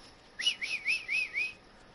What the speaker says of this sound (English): it sounded like a bird whistling